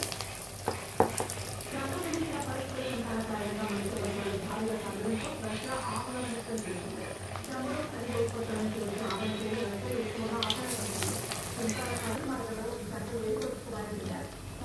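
Masala vadas frying in hot oil give a continuous bubbling sizzle with soft crackles throughout, while a person talks over it.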